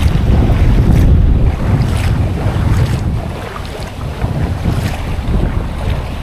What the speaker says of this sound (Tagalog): sobra lakas ng hangin